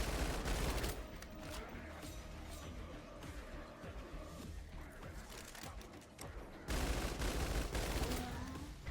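Rapid bursts of video game gunfire ring out during a boss fight in A-888: Project: Creedbreaker, dense crackling volleys that ease briefly mid-clip and then surge again loudly at the end.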